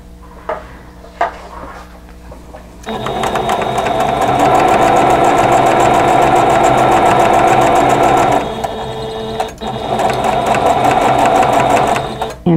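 A sewing machine stitches a quilt block with a loud, steady, close mechanical whir. It runs for several seconds, pauses briefly, then starts again, after a few light handling clicks at the start.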